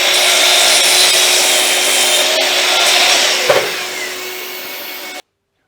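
Wooden boards being cut to length for three-legged sawhorses, a steady loud broadband saw noise running continuously for about five seconds with a brief knock near the end before stopping abruptly.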